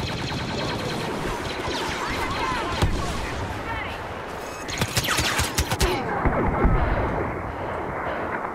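Gunfire in Star Wars Battlefront, dense bursts of blaster shots and explosions overlapping into a loud, continuous fusillade with a heavier cluster of shots midway.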